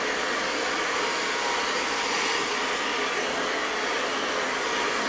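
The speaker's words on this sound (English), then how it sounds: "So we're just blow drying it." A hair dryer blow-dries hair, a loud constant whooshing drone held close and unbroken throughout, with no talking.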